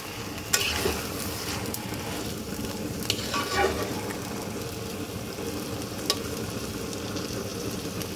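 Mutton for a spiced curry sizzles in a pan while being mixed, a continuous close frying hiss with occasional sharp clicks and scrapes of the spoon, no voices.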